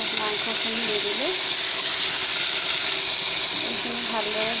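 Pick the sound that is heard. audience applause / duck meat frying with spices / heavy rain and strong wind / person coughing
duck meat frying with spices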